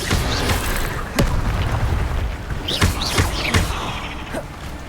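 Incendio and Expelliarmus spells are cast in Hogwarts Legacy, producing magical whooshes and bursts over a steady wash of game noise, with sharp impacts and rising chirps.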